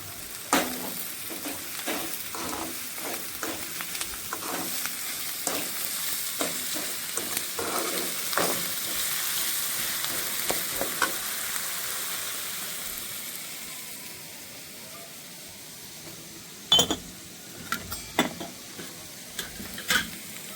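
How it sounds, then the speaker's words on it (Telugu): Onions fry in a pan with salt, giving a soft continuous sizzle and scattered stirring scrapes, fading quieter toward the end before a few sharper clinks. "చూడండి ఉల్లిగడ్డ బాగా ఫ్రై అయింది"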